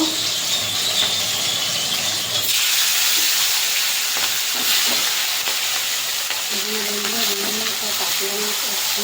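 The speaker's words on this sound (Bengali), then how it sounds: "মাছের মাথাটা এবার ভেজে নেব" Fish head frying in hot oil makes a loud, close sizzle and hiss that suddenly quietens a few seconds in, then keeps crackling more softly with brief high squeaks, and no one talks over it.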